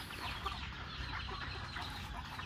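A young rooster clucks softly in a few short, low, close-up calls over a steady background hum, with no talking.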